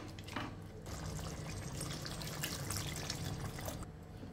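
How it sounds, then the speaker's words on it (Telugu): Water pours steadily into a pressure cooker of mutton biryani, making a quiet, continuous splashing and filling sound for a few seconds. "ఇప్పుడు ఇంకొద్దిగా నీళ్లు వేసుకుందాము"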